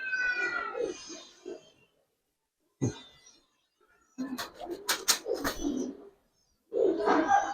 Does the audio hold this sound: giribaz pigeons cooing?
yes